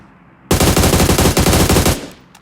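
A loud, close burst of automatic gunfire in PUBG Mobile lasting about a second and a half, with rapid evenly spaced shots hammering out before cutting off.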